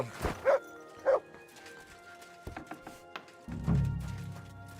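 In a medieval Bohemia exploration video game, a dog gives two sharp barks followed by softer yips and footsteps, all fairly close and mostly free of talk.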